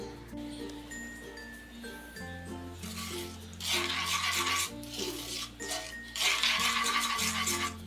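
A spoon scrapes and swirls through sugar and water in a pan while a syrup is made for rasmalai, in a few louder rasping bursts over steady background music.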